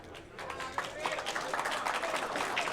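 At a snooker final, a hall crowd gives a soft spread of applause and general murmur with scattered claps. It stays fairly quiet and distant behind the commentary.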